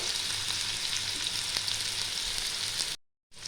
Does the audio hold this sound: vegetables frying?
yes